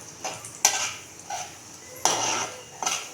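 Urad dal frying in a pan until brown, heard as a soft sizzle broken by several clinks and scrapes of a spoon stirring against the metal pan.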